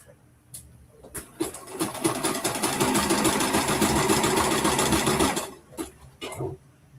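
A sewing machine stitches a neckband onto a Made for Mermaids Maeve top, its motor whirring steadily for several seconds after a few short starts, with brief bursts at the end as it stops and restarts.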